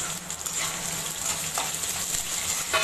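Fish sizzling steadily in a hot pan after salt and turmeric go in, a continuous close frying hiss with faint stirring scrapes and no talk.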